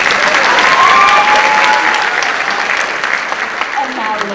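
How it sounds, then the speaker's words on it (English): Audience applause at a high school band show, a loud burst of crowd clapping with scattered cheers and a faint whistle, strongest at first then easing slightly while holding steady. "And now, round of applause"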